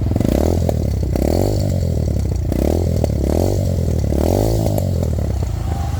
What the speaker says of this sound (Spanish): Y prendamos la moto. Un sonido muy ronco, amigos, vean.